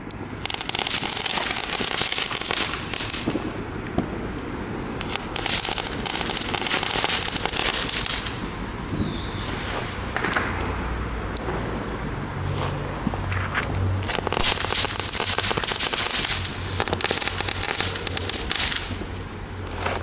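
Weco Blitzknatterbälle ball firecrackers with pressed crackle pellets, a dense continuous spray of sharp crackling pops lasting the whole span, moderately loud and outdoors, not very booming.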